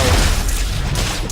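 Fireworks ability explosions in the video game Marvel Heroes Omega, a loud dense burst of crackling blasts and rumbling booms that fills the whole moment without a break.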